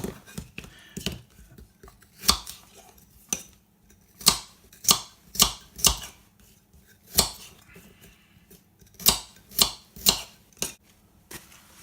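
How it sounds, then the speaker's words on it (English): Carrots being cut into chunks on a kitchen board, with sharp knife chops landing in uneven bursts, close and crisp against a quiet room. "So we're going to start with carrots. They just need to be cut into chunks."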